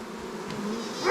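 Honeybees swarm around a beekeeper on an Alaskan homestead, a dense, continuous buzzing close by with one bee passing louder near the end.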